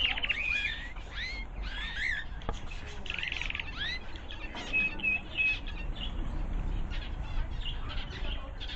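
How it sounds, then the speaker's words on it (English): Pet canaries chirp in a cage, giving quick, faint high-pitched tweets and short trills in scattered bursts over a soft background hiss. "In this one we've got canaries."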